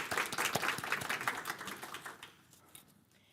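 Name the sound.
audience applause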